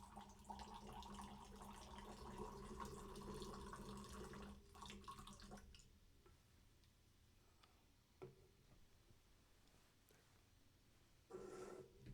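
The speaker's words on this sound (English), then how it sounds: "I'm going to give this a pour and let you know what I think about this." Alani Nu Cosmic Stardust energy drink pours into a glass with a steady close splashing gurgle that fades after about five seconds, followed by faint fizzing and a brief clink later on.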